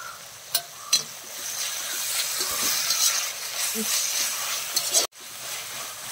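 Salted onions sautéing in a pan for a fish head curry, a soft, steady hiss with intermittent scraping and knocks of a spoon stirring, close, without speech.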